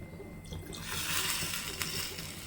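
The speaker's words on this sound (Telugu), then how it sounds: "ఇప్పుడు దీంట్లోనే వాటర్ యాడ్ చేసుకుంటాం." Water is poured onto soaked tamarind in a vessel for pepper rasam, giving a short, close splashing pour that swells and then tapers off.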